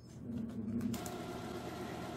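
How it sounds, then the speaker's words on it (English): A home printer whirs and grinds mechanically, a low steady drone with a rising mechanical shift partway through, close and continuous with no talk. "my apologies, the printer is contemplating life."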